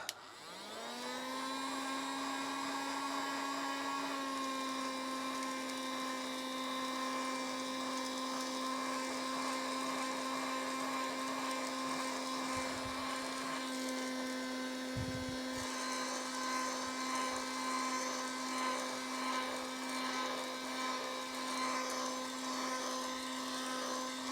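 A cheap £9 eBay vacuum cleaner runs continuously close by, spinning up at once into a high, whiny motor tone with steady harmonics and a slight pitch shift partway through, with no talking.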